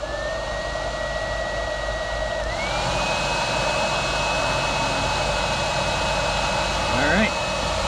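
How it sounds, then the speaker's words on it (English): A hair dryer runs steadily and loudly at close range, drying a fresh patch on a basement leak repair, its tone rising in pitch partway through and holding as a constant whine. "we'll start up our hair dryer again and we'll dry this off"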